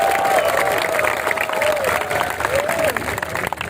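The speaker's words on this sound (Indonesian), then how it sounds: "Boleh yang mau tepuk tangan silakan." Audience applause at an outdoor religious concert in Tanjung Morawa, loud dense clapping and crowd noise with a sustained voice-like tone woven through it, fading slightly toward the end.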